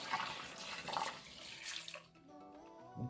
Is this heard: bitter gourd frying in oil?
no